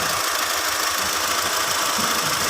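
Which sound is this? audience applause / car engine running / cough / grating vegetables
car engine running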